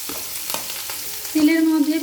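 Chopped onions and green chilli fry in hot oil with a steady close sizzle, broken by light scrapes of stirring, and a brief tonal squeak near the end.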